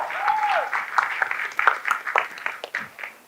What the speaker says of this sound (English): Big round of applause to our beautiful parents here.